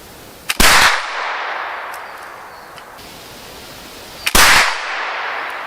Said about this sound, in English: I'll shoot at the target now.